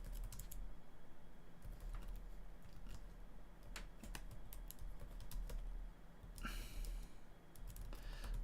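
Quiet clicking of fingers typing on a computer keyboard, irregular bursts of keystrokes close by with a louder cluster near the end, no talking.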